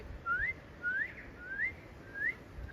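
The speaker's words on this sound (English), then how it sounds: "that was Pipi Whāroa, or Shining Cuckoo, which is a tohu of spring" A shining cuckoo (pipi whāroa) in New Zealand gives four rising whistled notes spaced about half a second apart, clear but moderately distant over quiet outdoor ambience.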